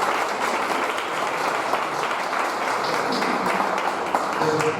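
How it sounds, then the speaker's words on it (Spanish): A crowd applauds at a gathering of mystery enthusiasts in Elche, giving dense, even clapping that holds at a steady level for about five seconds without a break. "un aplauso para Juan Carlos."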